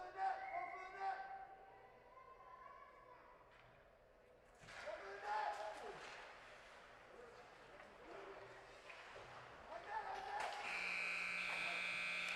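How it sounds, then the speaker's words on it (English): A horn buzzer sounds at the end of a period in a Squirt A youth ice hockey game between Janesville and Verona, a loud sustained tone near the end over rink crowd noise, with someone talking earlier. "there's the buzzer."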